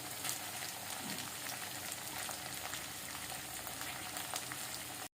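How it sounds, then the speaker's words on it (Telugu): Green chilies and onions frying in hot oil for a tempering, a steady close sizzle and crackle that holds evenly for about five seconds with no voices, then cuts off. "పచ్చిమిర్చి, ఆనియన్స్ తాలింపులో వేసుకోవాలి."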